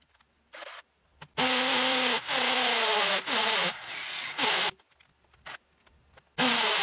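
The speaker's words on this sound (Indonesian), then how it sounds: "Percobaan ketiga kita cobakan pada media beton, menggunakan mata bor ukuran 8 mm, mode impact" A Yukido 13mm brushless cordless drill in impact mode bores into concrete with an 8 mm bit in long loud bursts separated by short pauses, with a gritty, grinding whine that shifts in pitch.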